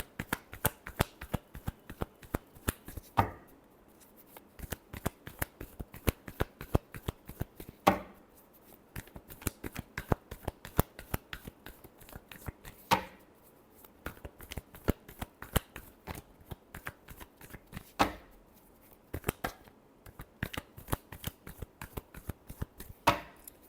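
Tarot cards shuffled by hand in a steady run of crisp riffling bursts, close and fairly quiet, with brief pauses between shuffles and no talking.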